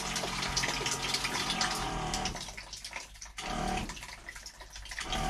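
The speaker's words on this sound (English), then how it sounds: "Obviously the pump's pumping." A water pump runs in an off-grid hot water setup while water leaks and sprays from the fittings, a loud continuous gushing hiss with a steady pump drone that briefly dips before surging again.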